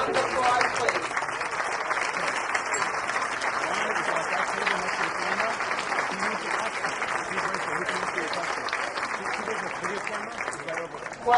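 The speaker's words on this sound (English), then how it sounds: "And a round of applause, please." A dinner audience at a chamber of commerce awards event applauds past honorees with steady, sustained clapping throughout, with some crowd murmur and voices underneath.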